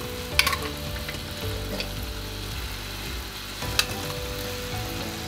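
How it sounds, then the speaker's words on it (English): Flour and tomato paste cooking in a pan for a Brazilian chicken pot pie while being stirred, a soft steady sizzle with a couple of brief scrapes over a faint low hum. "stir the flour in and let it cook for 2 or 3 minutes. Right, now in with our tomato paste."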